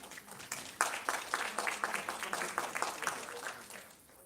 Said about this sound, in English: Please give a round of applause to all of our WOW-C members